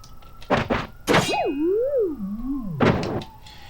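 A cartoon-style falling-over sound effect for gameplay: a bouncy, wobbling, dizzy tone that bends up and down before sliding downward, framed by short thumps, with no talking.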